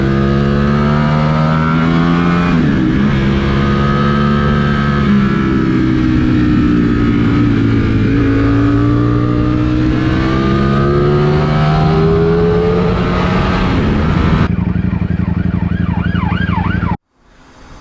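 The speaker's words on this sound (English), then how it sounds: "that's the standard Streetfighter out on the road" Ducati Streetfighter V4 motorcycle riding on an open road, its engine rising and falling through gears with a loud continuous whine and strong wind rush, then cutting off sharply at the end.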